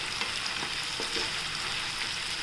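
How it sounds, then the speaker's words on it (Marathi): Onions sautéing in a pan toward golden, a steady close sizzle with soft scraping stirs throughout, no voices. "कांदे परतून घेऊया चांगले आपण ह्याच्यात थोडे आपल्याला हे सोनेरी करायचे"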